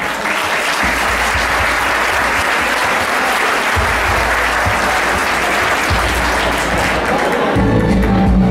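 Loud, dense applause from a large crowd at a town festival's queen-and-ladies coronation ceremony in El Picazo, sustained and steady for the whole stretch without letting up.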